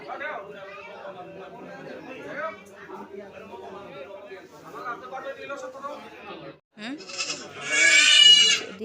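Goats bleat amid steady chatter of several voices, with a louder, harsher cry standing out near the end.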